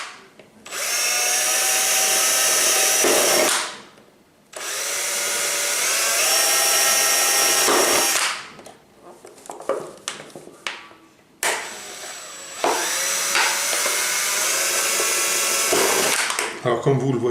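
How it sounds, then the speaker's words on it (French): Power drill boring holes in the low points of a plastic Asian hornet queen trap, three sustained whining bursts of several seconds each, loud and close, separated by brief pauses and handling clatter. "je fais les trous là dans les points bas"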